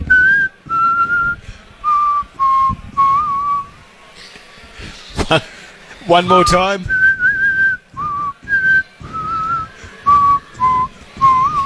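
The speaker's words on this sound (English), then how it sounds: "It's going to be quite, A slippery whistle." A person whistles a bouncy tune in short phrases with clear pitched notes, pausing once for a quick spoken remark.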